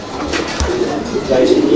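Pigeons kept for sale cooing nearby, soft low throaty calls rising toward the end, over background noise.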